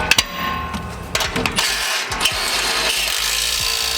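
Bolts with flat spring nuts are run tight while a bull bar is mounted on a Mazda BT50, heard as a steady power-tool whir with sharp knocks and clanks near the start, close and loud.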